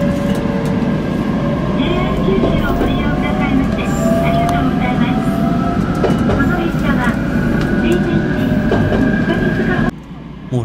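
Inside a moving, crowded rush-hour commuter train in Japan, a loud rumbling ride with wheel clatter and rising electric motor whine, a faint murmur of passengers underneath.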